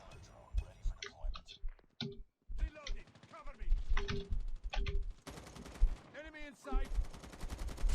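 Gunfire bursts from the Call of Duty Mobile video game, rapid shots and clicks mixed with someone talking in Thai throughout, with a denser, louder volley toward the end.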